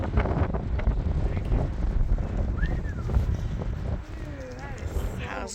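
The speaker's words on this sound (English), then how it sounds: "It's very cold and windy" Strong wind buffets the microphone on a cold, exposed coastline in County Cork, Ireland, a steady broadband roar that eases slightly toward the end while people talk over it.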